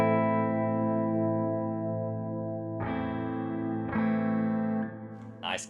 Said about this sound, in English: Nice clean tone, lots of reverb.